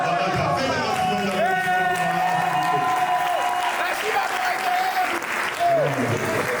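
A slam poetry show audience bursts into loud, sustained applause, a dense wash of clapping that fills the whole stretch. Cheers and a voice carry over it, with a tonal musical line running underneath.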